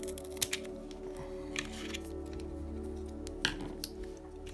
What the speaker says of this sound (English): So I'll just grab my scissors,